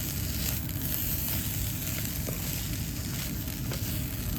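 Grated coconut being stirred through a hot pan for Kerala fish chutney (meen podimas), a steady close sizzle with soft scraping and stirring, no talk.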